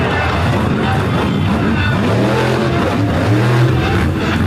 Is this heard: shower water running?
no